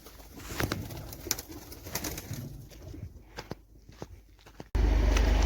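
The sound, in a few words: pigeons cooing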